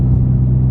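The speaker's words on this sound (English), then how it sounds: "Anyone that's ever had an M235i engine and you've had a custom exhaust done, what a sound this car makes" Deep, loud engine rumble from a BMW M235i with a custom exhaust, a steady low drone heard close up for under a second.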